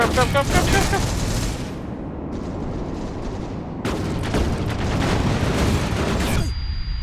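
Dense gunfire and explosions rattle through a zero gravity tactical shooter game, a loud sustained barrage of rapid shots and booms that cuts off abruptly near the end.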